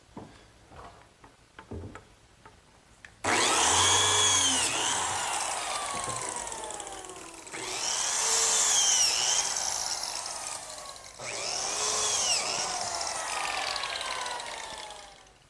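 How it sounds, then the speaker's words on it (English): A biscuit joiner cuts slots in cherry wood with three loud, close bursts of high motor whine, each lasting several seconds, with brief tapping and handling before the first cut. "So now I'll just cut some slots for the biscuits."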